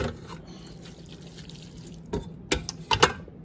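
Rinsed macaroni drips in a kitchen strainer: a soft watery trickle runs throughout, then a few sharper drips and splashes land near the end, with no talking.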